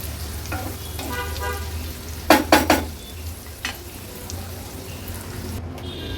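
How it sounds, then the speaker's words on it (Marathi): Onion softens in oil in a pan over low heat under a lid, a faint steady sizzle with a few sharp close clatters of a spoon or lid near the middle, without talking. "कांदा तेलावर छान नरम होईपर्यंत आपल्याला शिजवून घ्यायचा आहे."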